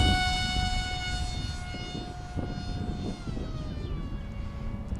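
Hobby King Bonsai 600mm wing RC plane flying overhead, its small electric motor giving a high whining buzz that rises and falls in pitch as it passes, over outdoor wind and handling noise.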